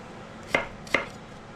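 Two crisp knife cuts go through peeled potatoes on a board, close and distinct, about half a second apart, over a faint steady background.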